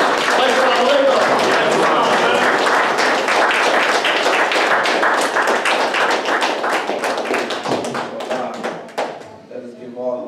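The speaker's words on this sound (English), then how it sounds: "Let's bring him on with a warm round of applause." Warm applause from an audience welcoming a minister onstage at a gathering, dense steady clapping that carries on for several seconds, then thins out and fades near the end.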